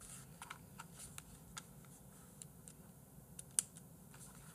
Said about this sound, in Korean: 한성무 접점 키감 키보드 소리 사각사각 된다니까